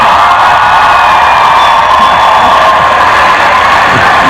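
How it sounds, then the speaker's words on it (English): A large crowd lets out a rebel yell, a sustained, loud mass of whooping and hollering voices that holds steady for several seconds. "was the rebel yell I've heard so much about"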